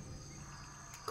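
Crickets chirp steadily in a video game's sci-fi horror setting (Dead Space), a constant high insect trill running throughout, with a brief louder knock near the end.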